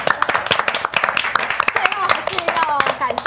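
A small group at a live-streamed studio talk show claps for the backstage crew, with quick, close hand claps scattered through the moment while people keep talking over them.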